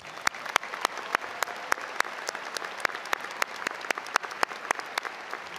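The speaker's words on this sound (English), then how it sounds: "Please give them all a round of applause." A crowd at a high school graduation ceremony claps steadily in sustained applause, with individual sharp claps standing out over the dense patter.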